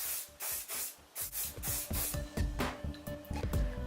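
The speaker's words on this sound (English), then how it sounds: "Spray it with a bit of hairspray so it stays." Repeated short bursts of aerosol hairspray hissing close by on styled hair, about a dozen quick sprays in an uneven rhythm, with some rustling and handling noise between them.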